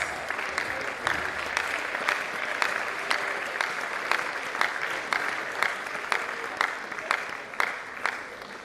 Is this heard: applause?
yes